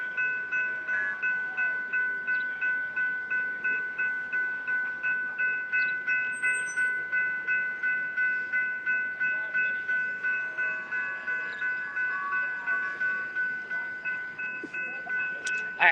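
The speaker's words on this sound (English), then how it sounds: "I'm just waiting for the train to pass." A train rolls past steadily with a rhythmic clatter of wheels over rail joints and a sustained tonal hum, continuous throughout, no talking.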